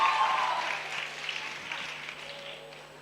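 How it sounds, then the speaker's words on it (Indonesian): An audience applauds at a student achievement competition: a burst of clapping that starts loud and gradually thins and fades over a few seconds, with a faint background hum. "Kita beri tepuk tangan."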